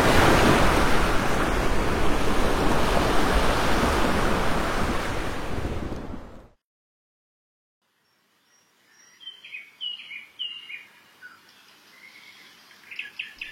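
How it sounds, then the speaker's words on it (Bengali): A big wave on a river slams against a wooden boat, heard as a loud, continuous rush of surging water and wind that breaks off abruptly, followed after a silence by faint bird calls. "তারপর একটা বড় ঢেউ এসে একেবারে আছড়ে ফেললো নৌকাটাকে।"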